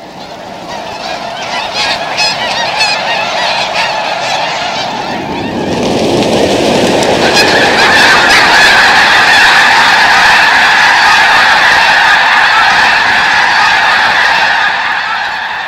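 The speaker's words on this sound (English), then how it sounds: "Vast numbers of snow and Ross's geese winter in the fields and wetlands of the refuge." A large flock of wintering snow and Ross's geese honking continuously in Rio Grande refuge fields and wetlands, a dense overlapping chorus that swells louder midway and stays steady, with a broad rushing wash beneath.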